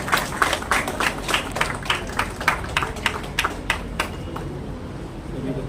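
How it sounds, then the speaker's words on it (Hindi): An audience at a news channel's anniversary event claps to welcome guests on stage, a run of separate, sharp claps that loosen and thin out toward the end, over a low room hum. "तालियां बजाकर स्वागत कीजिए आप"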